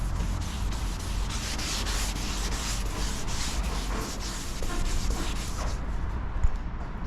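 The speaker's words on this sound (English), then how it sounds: "I'm gonna scuff it up with my red Scotch-Brite" Red Scotch-Brite pad scuffing the sides of a truck bed ahead of a Raptor liner coating: a loud, steady rhythmic rubbing and scraping close up, running continuously without a break.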